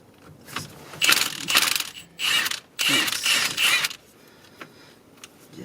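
Bolts being removed from the rear differential of a 1999 Ford Explorer, with several bursts of metallic ratcheting and rattling of roughly a second each, close and loud, separated by short quiet gaps.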